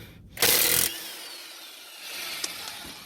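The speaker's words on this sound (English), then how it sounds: "just gonna use my impact socket" An impact wrench with an impact socket drives a brake caliper bracket bolt during a brake pad change, giving one loud, close, buzzing burst of under half a second, then a low mechanical hum and faint clicks.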